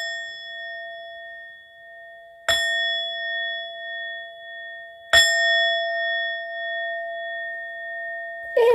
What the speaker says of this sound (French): on va élever nos vibrations avec un petit coup de gong